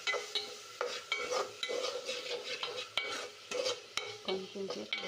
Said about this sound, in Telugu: టమాటాలు కూడా వేసుకొని కొంచెం సేపు మగ్గించాలి